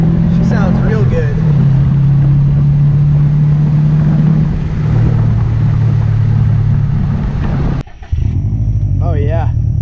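A 2018 Subaru WRX STI fitted with a new, loud aftermarket exhaust pulls away, its deep steady drone close at first and shifting in pitch, then cut off abruptly near the end, with faint voices in the background.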